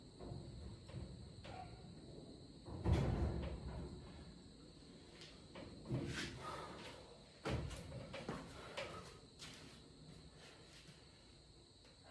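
Metal cabinet door on a Harbor Freight tool box being opened and closed during assembly, giving several separate thuds and clanks spread across the moment, fairly close, with faint handling noises between.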